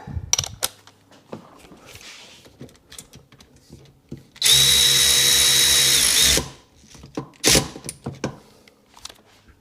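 A power drill tightens a part on a Seadoo 4-Tec engine in one steady, loud two-second whir, surrounded by scattered clanks and tool handling before and after.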